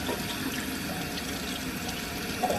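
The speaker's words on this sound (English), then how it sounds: "I'm just wetting the washcloth now" Tap water runs steadily into a sink while a washcloth is wetted, a continuous close splashing flow with no voices.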